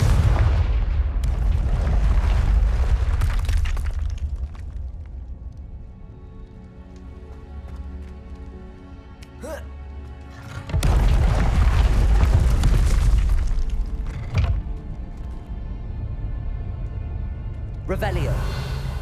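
A fire-blast spell cast in a fantasy wizard action game bursts out as heavy, booming detonations, two large impacts separated by quieter crackling stretches and a few sharp smaller hits, loud and close.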